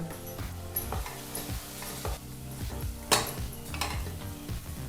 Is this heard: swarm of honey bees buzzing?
no